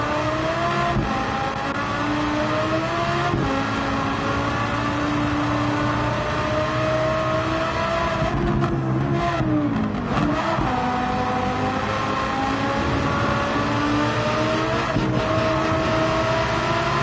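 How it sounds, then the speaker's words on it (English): Supercharged race car roaring around the Nürburgring Nordschleife in Gran Turismo 7, a loud, continuous engine drone with rising and falling revs and gear shifts throughout, no talk over it. "Listen to that engine behind there. That car has a supercharger."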